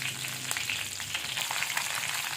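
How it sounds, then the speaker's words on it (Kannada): Mustard seeds, cumin and curry leaves crackling in hot oil, a dense continuous sizzle with scattered pops, close and steady with no talking. "ಅದೇ ಎಣ್ಣೆಗೆ ಸಾಸಿವೆ ಜೀರಿಗೆ ಅದೇ ರೀತಿ ಕರಿಬೇವಿನ ಸೊಪ್ಪು ನಿಮಗೆ ಎಷ್ಟು ಬೇಕಾದ್ರೆ ಹಾಕ್ಕೊಳ್ಳಿ"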